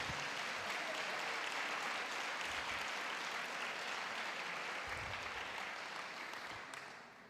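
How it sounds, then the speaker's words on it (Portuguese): A congregation at a Brazilian church conference session applauds, a continuous wash of many hands clapping, fairly distant and even, tapering slightly at the close. "Diga, aplauda ao Senhor."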